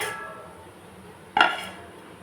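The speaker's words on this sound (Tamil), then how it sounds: "மீன் முழுகிற அளவுக்கு வச்சுட்டு மூடி போட்டு மூடி வச்சுக்கலாம்" A lid is set onto a pot of fish curry with mango, a single brief metallic clink against a faint kitchen background.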